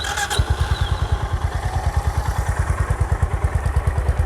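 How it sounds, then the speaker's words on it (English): Motorcycle with a new exhaust layout, its exhaust note a steady, close, rhythmic thumping idle that starts after a brief clatter and holds an even pulse throughout, with no talking. "We'll try and show you the exhaust note now"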